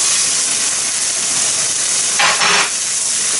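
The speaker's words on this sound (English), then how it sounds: "a little bit of olive oil in the pan. Put the salmon in there." Salmon marinated in Worcestershire sauce and dusted with black pepper sizzles in olive oil in a pan, a steady bright hiss that surges briefly louder near the end as the fish settles in.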